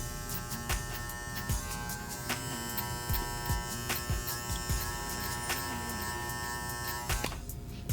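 Electric hair clippers buzz steadily while cutting a high skin fade, a continuous close hum with repeated short strokes and clicks as the blade works through hair.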